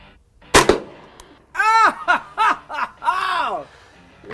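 A sharp, close .22 long rifle shot at an outdoor shooting contest, followed by chuckling and laughter from people nearby.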